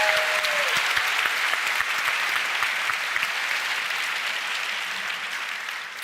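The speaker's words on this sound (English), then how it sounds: "if we could all give a round of applause to Gary O'Reilly" Live audience at a science podcast recording breaks into sustained applause, a dense wash of clapping with a few sharp claps early on, gradually easing off near the end; a voice is briefly heard at the start.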